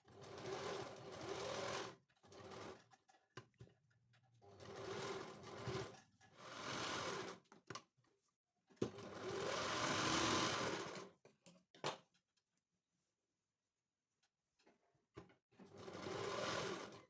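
A sewing machine stitching a strip one-piece dress runs in several bursts of steady whirring lasting a few seconds each, separated by pauses and a long silent gap, close and with no talking.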